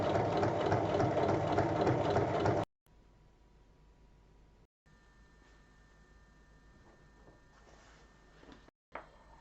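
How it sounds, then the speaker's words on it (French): A sewing machine topstitches along both sides of an opened seam on a fused bag panel, running loud and steady with a fast rhythmic chatter for about two and a half seconds before stopping, leaving only quiet room noise. "maintenant on va surpiquer de chaque côté de la couture"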